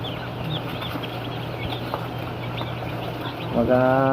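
A batch of newly arrived broiler chicks peeps in a pen, with a continuous chorus of small high chirps close by and a voice coming in at the very end.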